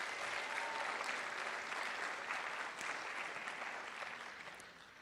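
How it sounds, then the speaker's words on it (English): Sustained audience applause for a school jazz band fills the room, a dense, steady wash of many hands clapping that holds evenly throughout and tapers slightly at the end. "Can we give one more round of applause for our amazing jazz band?"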